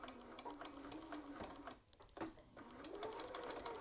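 A sewing machine stitches a shirt button band in quick rhythmic bursts of needle clatter, pausing briefly midway before running on, close and fairly quiet.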